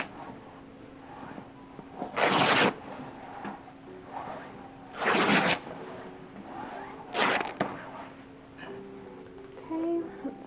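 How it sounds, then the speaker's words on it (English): Plain weave wool fabric being ripped by hand, three or four short tearing bursts spaced a few seconds apart over a quiet room background. "it's a plain weave wool, so we can rip it"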